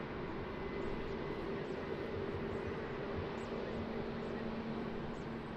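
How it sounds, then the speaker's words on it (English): An Etihad Boeing 787 airliner on final approach at Lisbon Airport in rain, a steady distant engine drone with a faint tonal whine, moderately quiet and continuous, no talk. "So beautiful Etihad 787 on final."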